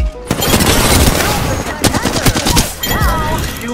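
Rapid automatic gunfire from an R99 submachine gun in Apex Legends, loud sustained bursts with booming impacts and game effects, with a voice speaking briefly over the shooting.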